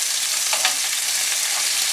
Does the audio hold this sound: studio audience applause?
no